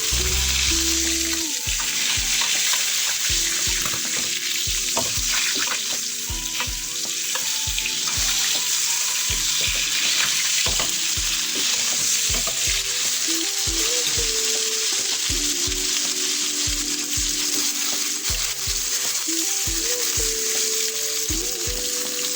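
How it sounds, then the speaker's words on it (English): A garlic butter steak is pan-seared, hissing in a loud, steady sizzle that never lets up, with small clicks and spatters scattered over it and no voices. "Here I was turning the steak to cook the other side because I was cooking each side for 4 minutes."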